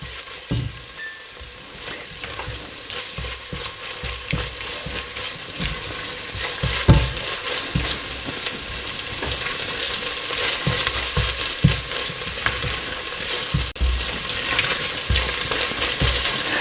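Food fries loudly in a pan on a hob for samosa chaat, a dense crackling sizzle with scattered spits and stirring clatters that grows slightly stronger as the heat is turned up, close and without voices.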